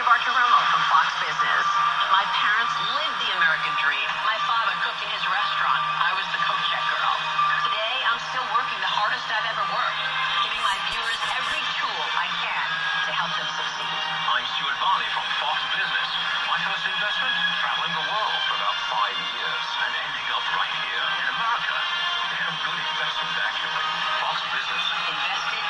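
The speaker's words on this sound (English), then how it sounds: "It's got a little bit of static in it." A GE Sportmate P860A portable radio tuned to a news station plays steadily with a hiss of static, its broadcast voice continuous and fairly loud throughout.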